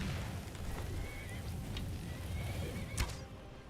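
A horse whinnies once amid the ambient in-game soundscape of Skyrim, a brief mid-range neigh near the three-second mark over a steady low rumble of wind and distant action.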